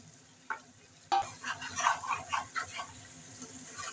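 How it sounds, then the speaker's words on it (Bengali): Potatoes tossed into chicken frying in a pan for a thin curry, a thud followed by loud sizzling and rhythmic stirring scrapes that gradually settle. "এবার আমি আলুগুলো দিয়ে দিচ্ছি।"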